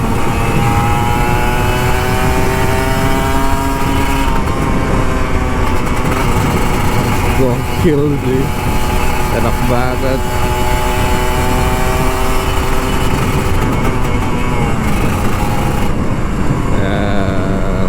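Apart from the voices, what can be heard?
Kawasaki Ninja RR 150 motorcycle revving while riding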